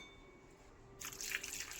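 Peeled potato slipping into a bowl of water for homemade chips, a quiet stretch followed by a brief splashy wash of water that lingers for a moment, no speech.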